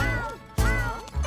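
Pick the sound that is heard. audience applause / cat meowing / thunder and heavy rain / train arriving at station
cat meowing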